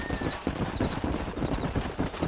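Horses trotting in Red Dead Redemption, a steady rapid clip-clop of several hooves close by, continuous and fairly loud with faint background noise.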